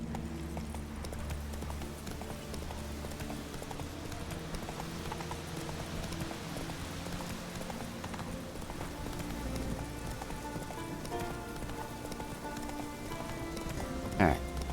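Roach, Geralt's horse in The Witcher 3: Wild Hunt, gallops steadily with a continuous clip-clop of hooves under a dense game soundscape and music, a louder knock near the end.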